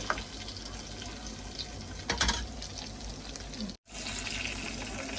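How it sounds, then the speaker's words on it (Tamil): Fish frying in hot oil at a family feast, a steady bubbling sizzle that stays fairly loud and close, with a brief flare of crackle near the middle and a momentary dropout near the end. "ஓகே, இப்போ மீன் பொரிஞ்சிட்டு வந்து நாங்கள் எடுப்போம்."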